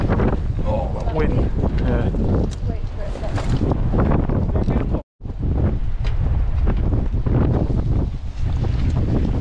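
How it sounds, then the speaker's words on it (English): Heavy, rumbling wind buffeting the microphone during a mountain bike ride on wooded trails with gaps, drops and wooden features, nearly constant and loud, cutting out for an instant midway; a rider speaks briefly under the roar. "Oh, that wind."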